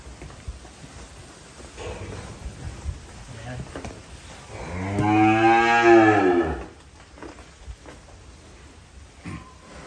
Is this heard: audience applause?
no